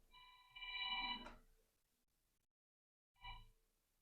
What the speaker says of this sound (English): So Andrew, I'd like to educate you to turn your phone off.